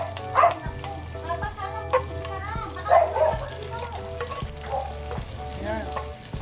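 Garlic and onion fry in plenty of oil for menudo, giving a steady close sizzle with clinks of a stirring utensil, while a voice talks over the cooking.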